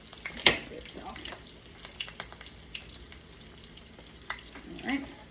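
A fried egg sizzles in a pan while being flipped. Soft crackling and popping run throughout, with a sharp clatter near the start and a louder burst of sizzle toward the end.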